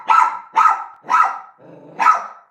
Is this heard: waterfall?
no